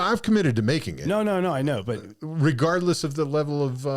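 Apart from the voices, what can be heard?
None of the usual background noises is heard.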